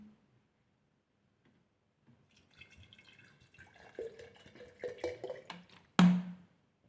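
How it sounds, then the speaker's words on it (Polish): Water is poured over strawberry scraps in a jar to make vinegar, with sparse drips giving way to irregular splashes and trickles, then a sharp burst near the end before silence. "Teraz trzeba tylko zalać wodą i czekać."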